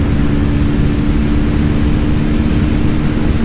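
A TVS Apache RTR 310 and a KTM Duke 250 motorcycle drag race, heard as a loud, continuous engine roar with steady wind rush throughout, with no speech over it.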